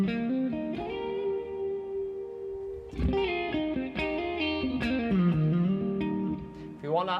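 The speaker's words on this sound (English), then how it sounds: "Swirl mode for this sound, really cool. Turned on the reverb." Electric guitar played through a reverb pedal in swirl mode, sustained chords and single notes ringing out with lush, wide, shimmering reverb tails, moderately loud and alone.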